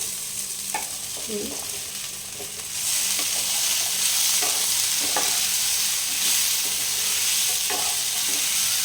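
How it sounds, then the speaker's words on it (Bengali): Chana dal fries and is stirred in a pan with a steady hiss and soft spatula scrapes; then bottle gourd drops in and the sizzle swells into a louder, fuller, sustained roar, close and free of talk. "এই দেখুন ছোলার ডালটা আমার কিছুটা ভাজা হয়ে গেল, এরপর আমি লাউটা দিয়ে দেবো"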